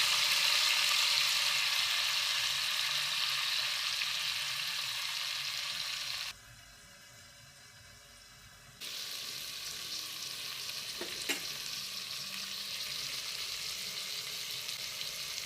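Spring onion leaves frying in oil with a cumin seed tempering, a steady broad sizzle that drops briefly quieter midway then resumes, close and fairly soft, with a couple of light stirring clicks and no talk.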